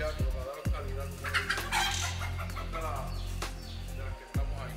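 A gamecock breeding hen on a Spanish-speaking farm clucks and calls in short bursts close by, with brief thumps and some background noise around it.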